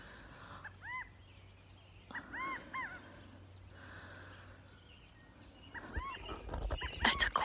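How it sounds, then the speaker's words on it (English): Short bursts of bright, rising-and-falling chirping calls from a quail near a farm field, repeated in three clusters at moderate distance over a low background hum, with no speech. "I hadn't heard that chirping before"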